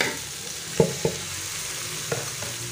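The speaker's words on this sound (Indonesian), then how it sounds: "Lalu kita masukkan toge." Bean sprouts frying in a pan with a steady, faint sizzle, broken by a few light stirring clinks and taps against the pan.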